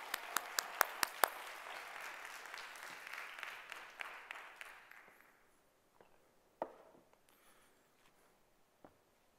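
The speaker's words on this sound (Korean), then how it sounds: "박수 한번 부탁드리겠습니다" Audience applause for graffiti artist Hwang Eun-gwan at a stage show, a burst of claps that is loud at first, then thins and fades to a few scattered claps.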